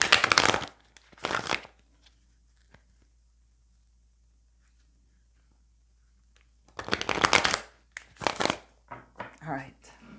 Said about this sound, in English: Let me shuffle a little.